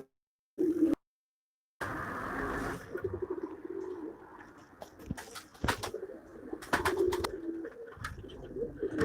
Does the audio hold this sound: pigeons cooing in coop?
yes